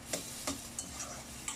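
Mung beans toasting in a pan for ginisang munggo, stirred with a utensil: a few sharp scraping clicks spaced through a faint, steady background hiss, with no talking.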